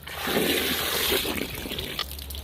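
Water runs loudly and steadily from a hose or tap into a turkey fryer pot outdoors, a continuous splashing rush that ends abruptly near the close.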